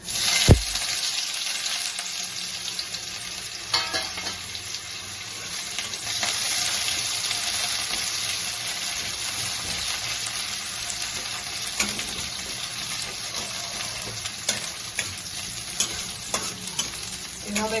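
Chopped onion and garlic fry in hot tempering oil in a pan while a utensil stirs them, giving a loud steady sizzle with scraping strokes scattered throughout.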